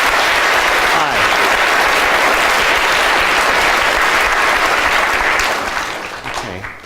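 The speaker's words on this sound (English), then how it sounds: "Round of applause for both of our volunteers." An audience applauds two volunteers called up to the stage, a loud, dense burst of clapping that holds steady for several seconds before tapering off.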